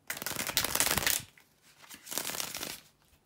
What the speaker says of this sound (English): bear with me guys just a second to shuffle the cards